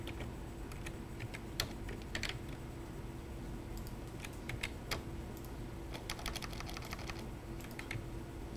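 Someone types on a computer keyboard in a lecture setting, with irregular bursts of soft key clicks over a steady low room hum and no talking.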